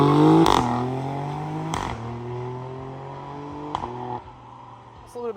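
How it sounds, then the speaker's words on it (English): Exhaust note of an Alfa Romeo Stelvio Quadrifoglio, a steady droning hum broken by several sharp burps on gear shifts, heard close with a slight whine underneath. "the exhaust sounds pretty sweet"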